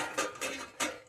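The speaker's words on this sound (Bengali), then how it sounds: "ঢাকাটা খুলে" A lid comes off a cooking pot of simmering potatoes in a fish curry, giving three light metallic clinks and scrapes spaced a fraction of a second apart, close and fairly quiet with no speech.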